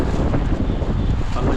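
Strong wind blows outdoors near the sea, buffeting the microphone with loud, continuous rumbling gusts.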